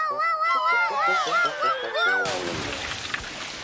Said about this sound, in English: then they splash into the water.